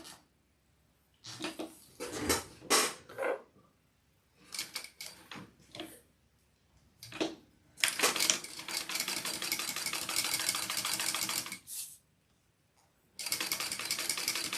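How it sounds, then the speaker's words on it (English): A sewing machine topstitches down the sides of a fabric sling, several short bursts of rapid stitching followed by longer steady runs, close and clear with brief pauses between. "now you want to top stitch, a bigger top stitch down both sides"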